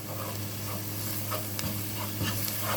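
Spices, berbere chili powder and tomato fry in a pan for an egg stew, giving a steady, close sizzle with soft stirring scrapes throughout and no talking.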